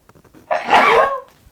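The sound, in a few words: sneeze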